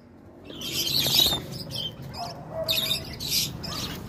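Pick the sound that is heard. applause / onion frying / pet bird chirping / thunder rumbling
pet bird chirping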